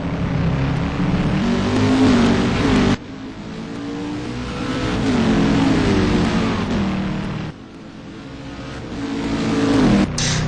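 A touring race car at the Trois-Rivières street circuit screams past while accelerating to overtake, its engine note climbing and dropping through gear changes in several loud surges separated by abrupt cuts.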